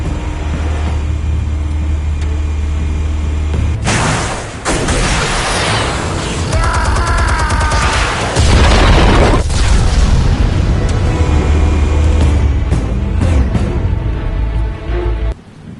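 Explosives detonate in a Telltale Batman game, loud deep booms and heavy rumbling blasts rolling through a sustained, dense roar, with several distinct impacts spread across the stretch.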